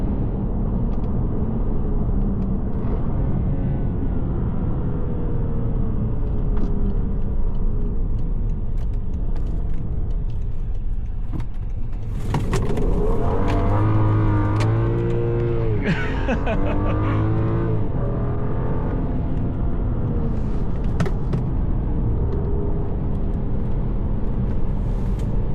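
A 2014 BMW 535i heard from inside while driving, with a steady low engine drone and road rumble throughout and a brief rise in engine note midway.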